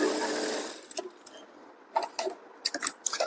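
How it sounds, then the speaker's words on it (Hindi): A sewing machine stitches a blouse seam in close bursts, a long steady run at the start and then short clattering spurts with pauses between them. "वहां पर आपको एक चाप की सिलाई लगानी है"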